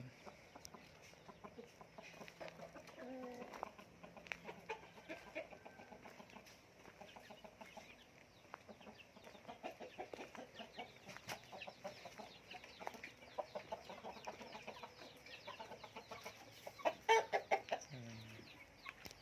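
Fighting cock roosters on a breeding farm cluck repeatedly in soft, scattered bursts, with a brief louder crow-like call near the end, all fairly faint and distant amid quiet farm ambience.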